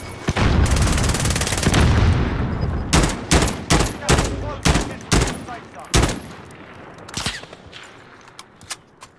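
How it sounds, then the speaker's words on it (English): Gunfire in a shooting video game as a sniper fires from a rooftop: loud, close bursts of rapid shots at first, then separate sharp cracks that thin out and fade toward the end. "This little guy is shooting us from that roof, Sean."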